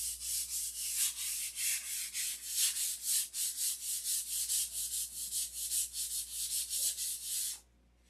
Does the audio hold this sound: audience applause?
no